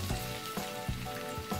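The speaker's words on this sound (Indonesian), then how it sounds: "Sebelumnya kita panaskan sedikit minyak." Oil heating in a pan before shallots, garlic and galangal are fried for a spicy fried-egg broth, giving a steady close crackling sizzle with small pops throughout.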